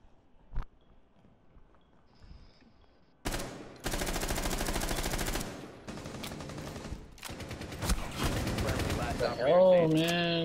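Light machine gun bursts in a tactical shooter game: a single shot, then long rapid rattling bursts of automatic fire, close and loud, with a voice speaking briefly under the gunfire.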